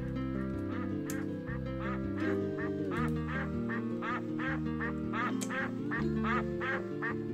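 Cartoonish ducks quack repeatedly in the Flash video game Fly Guy, a steady run of nasal quacks over a looping game soundtrack with bass notes.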